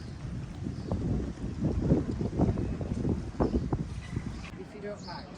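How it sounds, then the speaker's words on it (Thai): Strong wind gusts outdoors along a town street with clothing shops in Helmsley, rumbling and buffeting the microphone loudly throughout, with voices faint underneath. "ลมแรง"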